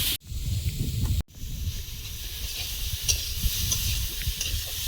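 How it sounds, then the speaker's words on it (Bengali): A pan of bata fish curry with ridge gourd, potato and a nigella seed tempering sizzles and hisses close by under scraping stirs, broken by two short cut-offs near the start. "আজকে বাবার জন্য ঝিঙে আলু দিয়ে কালো জিরে ফোড়ন দিয়ে বাটা মাছের ঝোলটা করে নিচ্ছি"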